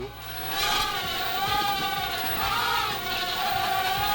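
A JJRC H345 mini drone flying close by, its tiny motors giving a steady high-pitched whine that rises and dips in pitch as the throttle changes, continuous for a few seconds.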